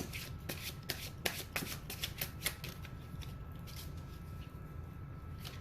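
Oracle cards being shuffled close by, a quiet run of crisp riffling flutters in short bursts, then softer rustling, with no voices.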